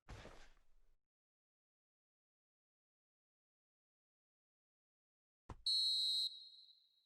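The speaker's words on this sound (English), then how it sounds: "And there is the half-time whistle." A referee's half-time whistle in the football video game PES 2021, Feyenoord vs ADO Den Haag at De Kuip, sounds as one shrill, steady blast near the end. It follows a brief noisy burst at the start and a long stretch of silence.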